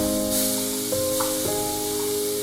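Paneer sizzles in a pan with onions, capsicum and garlic, a steady close frying hiss broken by soft stirring clacks and a faint tonal hum underneath.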